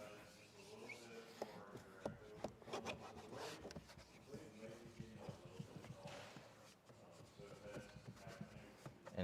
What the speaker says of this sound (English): And then you can take a scrub pad.